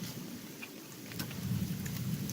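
Steady rain falls outdoors during a heavy downpour, a dense, even hiss of drops with a low rumble beneath, continuous and with no voices.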